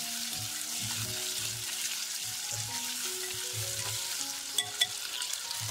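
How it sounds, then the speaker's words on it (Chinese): Onion chunks stir-fry in oil with ginger and garlic in a wok, a soft steady sizzle broken by repeated scraping stir strokes and a couple of sharper clinks near the end, heard alone. "加入洋葱块拌炒"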